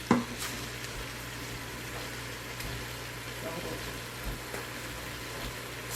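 Ground meat cooks in a pan with a soft, continuous sizzle and occasional scrapes or clicks from stirring, steady and fairly quiet under a low background hum.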